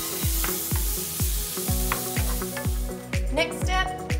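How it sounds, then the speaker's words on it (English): Mushrooms and spinach sauté in a pan with a constant sizzle under rhythmic clacks of a utensil stirring against it, heard close up and without talk. "Next step, add in your spinach and let it saute."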